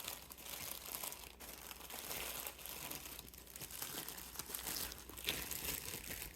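A thin plastic sandwich-style bag crinkles continuously at close range, a dense rustling texture with a few sharper crackles, quiet overall and free of talk.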